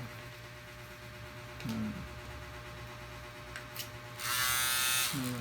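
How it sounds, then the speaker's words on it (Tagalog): An old electric shaver buzzes briefly. A low hum runs throughout, with short whirring bursts and then a louder, sustained, high-pitched buzz near the end, close to the microphone. "Ito yung dati kong shaver."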